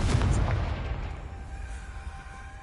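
Confringo blasting spell in the Hogwarts video game: a single booming burst at the start that rolls away into a fading rumble, fairly distant and soft overall.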